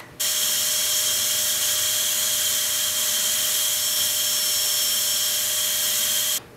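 Walnut media blasting on the intake valves of a BMW N54 engine, a steady loud hiss of rushing compressed air that starts abruptly, holds for about six seconds without letup, then cuts off.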